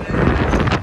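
Gusty wind buffets the microphone outdoors at a Dallas Cowboys stadium on game day, a loud, steady low roar with rising gusts that runs unbroken through the short moment.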